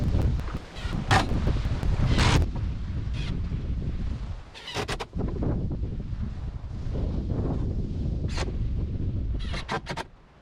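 Strong wind buffets the microphone in a constant low roar near water, with sharp gusty thumps and crackles breaking through.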